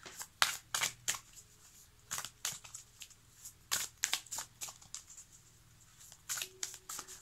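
Tarot cards shuffled and drawn in a weekend reading, giving quiet crisp slaps and riffles in irregular bursts with rustling between, close up and with no talking.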